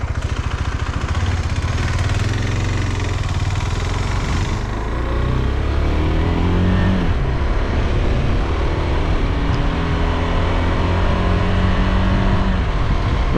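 A motorcycle rides at about 45 mph on a breezy day, a loud, steady engine drone under heavy rushing wind noise that roars continuously throughout, with the engine pitch shifting slightly partway through.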